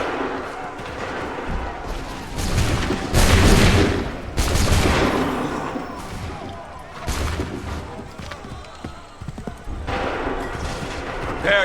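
Musket volleys in Assassin's Creed 3 crack out in several bursts of ragged gunfire, loud booming clusters repeating every couple of seconds with echoing tails, while voices shout between the shots.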